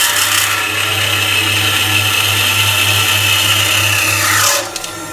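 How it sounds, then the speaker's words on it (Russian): A power saw cuts through small-diameter mild steel at high speed, a loud steady whining grind running continuously for several seconds before the blade stops and the sound drops off abruptly. "Мягкая сталь, пилится вообще на ура."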